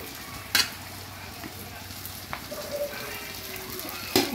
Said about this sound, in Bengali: সবগুলো পেঁয়াজ দিয়ে দিলাম।